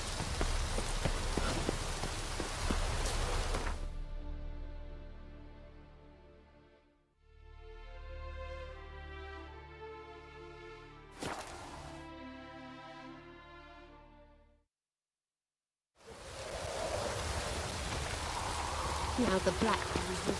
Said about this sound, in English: No use doing any work in this rain.